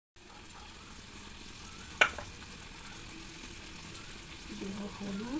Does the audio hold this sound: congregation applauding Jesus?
no